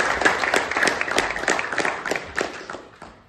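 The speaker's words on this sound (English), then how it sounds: "Can we have a round of applause for that?" Applause from a crowd at an event, a steady spatter of clapping for roughly three seconds with a few sharper hand claps standing out, tapering off at the end.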